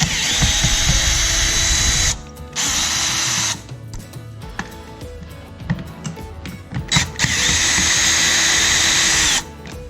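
Power drill backing screws out of a plastic body cover on a Honda ADV 150 scooter, several loud whirring runs with short pauses, clicks and handling clatter between them, close by.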